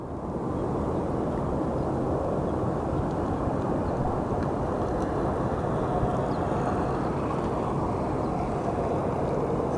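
Steady, loud broadband roar of a military Texan propeller aircraft at Sky Harbor Airport, sustained without letup as it prepares to depart, with no talk over it.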